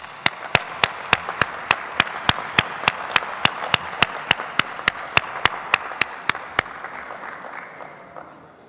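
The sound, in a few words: applause at a congress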